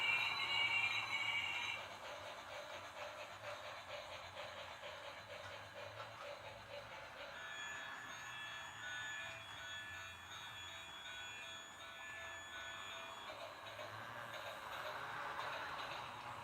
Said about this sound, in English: Let's give them a try and see if this horrible train set works.